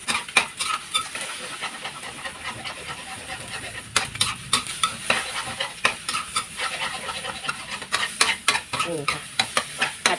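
Eggs stir-fried with preserved radish in a pan, with a steady sizzle under repeated scraping strokes of the spatula across the pan surface, close up and without talk.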